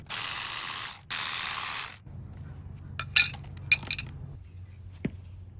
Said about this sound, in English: We'll remove the heat shield, two 10mm screws.